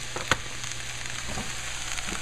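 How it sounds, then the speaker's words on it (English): Herbs sautéing in a pan for a gluten-free lasagna, a soft continuous sizzle with one sharp clink near the start and faint scraping later. "I'm going to throw this into this and saute it up a little bit"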